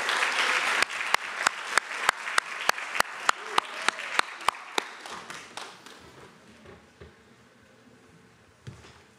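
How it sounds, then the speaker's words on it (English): Audience applause at a 2023 educational leadership graduation ceremony, with a strong burst of clapping welcoming a graduate to the stage, punctuated by sharp rhythmic claps for several seconds before gradually thinning and fading out. "Big round of applause."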